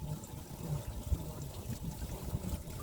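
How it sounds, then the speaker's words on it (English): Small waterfall at an alpaca farm pond, a steady, low, rushing splash of falling water heard close by without any talking. "And the waterfall, I love waterfalls."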